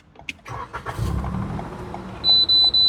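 A Toyota car engine, either a RAV4 or Harrier, is switched on with a short starter crank that catches into a steady idle, followed by a series of high electronic chimes near the end.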